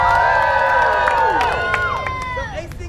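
A live event audience cheers and yells loudly, a dense, sustained crowd roar with whoops and shouts rising over it, fading slightly toward the end.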